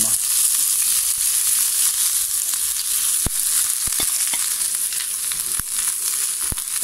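Cabbage and bean sprouts stir-fry in a pan for miso ramen, giving a loud, continuous sizzle close up, punctuated by sharp clicks and scrapes of the utensil.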